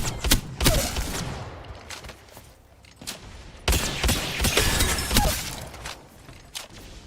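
EVA-8 shotgun fired without a bolt in Apex Legends, loud rapid blasts in quick bursts with short mechanical clacks between shots, close up and continuous across the stretch.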